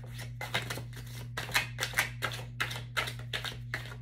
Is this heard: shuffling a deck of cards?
yes